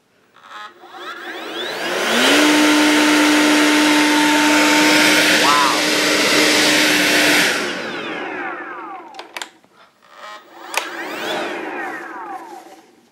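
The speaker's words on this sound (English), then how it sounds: "The jeans test. Classic leaf blowers test." A leaf blower roars up loudly at close range during a jeans-ripping test, holding a steady high whine for several seconds before cutting off, followed by short bursts of flapping and blowing noise.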